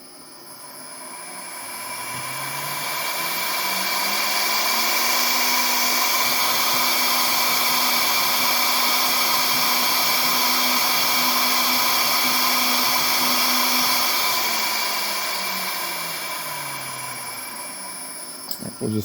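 A MillRight Mega V2 CNC router engraving small lettering whines steadily at a high pitch, spinning up, holding a loud even tone for about ten seconds, then winding down.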